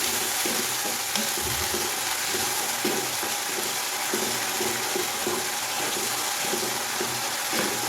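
Spice paste fries in a pan with a steady, close sizzle and crackle, broken by faint scraping knocks from stirring.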